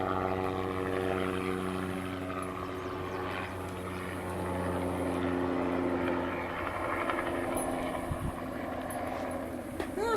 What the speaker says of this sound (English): The helicopter's coming back.